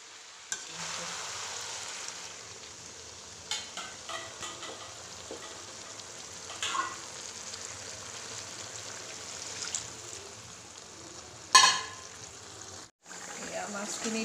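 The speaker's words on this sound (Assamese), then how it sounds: "আৰু এইফালে জহা কোমোৰাখিনি ভাজি লৈছিলোঁ যে, এয়া সিজিব হৈছে আৰু" Ash gourd pieces fry in a pan with a faint, steady sizzle, broken by occasional clinks and a sharp burst of spattering near the end, quiet and close.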